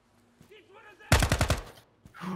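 Rapid burst of about five gunshots in the tactical shooter game Ground Branch, loud and close, cutting in sharply after quiet and brief murmured sounds, then fading out.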